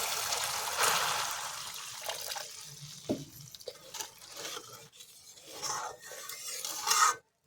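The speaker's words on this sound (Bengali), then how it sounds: "এর মধ্যে আমি এখন একটু জল দিয়ে দেব।" Water trickles and pours into a pan of bata fish curry masala, with stirring and wet splashing sounds close up and no one talking.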